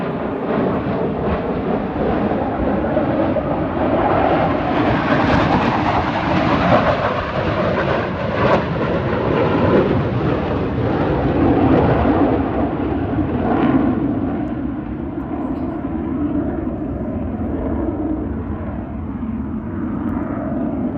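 Blue Angels jets flying in formation at an air show at NAS Pensacola, a loud, sustained roar that swells and then slowly eases, with no voices over it.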